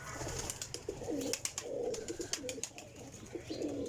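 A desi female pigeon coos repeatedly in soft, rounded, low calls, close by and steady, with a faint hiss and sharp clicking in the background and no talking.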